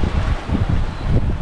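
Amihan wind blowing across a mountainside in Dilasag, Aurora, a loud, steady rush with gusty low rumbling buffets against the microphone and no voices.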